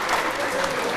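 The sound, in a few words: audience applause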